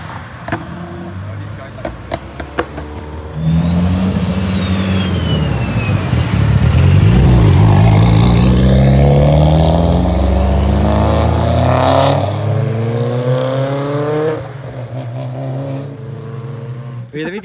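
Cars in Forza Horizon roaring down a narrow bend at a car meet, engines swelling loudly as they rev and sweep past in overlapping passes before fading, with voices talking at the start and end.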